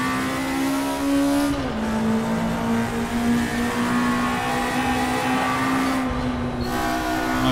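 A vintage race car in a racing simulator game, driven without assists, sends out a loud, sustained engine drone that holds a steady pitch, dips briefly, then climbs again. Brief tire noise accompanies it, and no one speaks.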